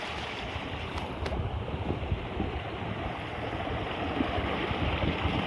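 Stream water rushing and gurgling beneath stones at a scenic hillside spot in Kakkadampoyil near Nilambur, Kerala, a steady broadband wash heard close and continuous throughout with no voices.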